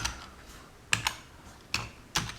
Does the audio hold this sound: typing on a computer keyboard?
yes